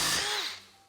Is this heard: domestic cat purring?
no